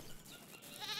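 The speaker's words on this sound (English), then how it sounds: "So here's a bunch of goats and a herder." Goats in the video game The Count Lucanor bleat faintly and briefly, a short wavering cry rising at the end over quiet background.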